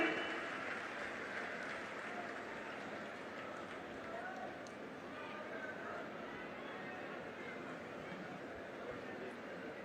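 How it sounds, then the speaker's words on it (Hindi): Crowd applause at a public inauguration and foundation-laying event in Amroho district, a steady wash of distant clapping throughout, moderately faint. "सभी की जोरदार तालियां।"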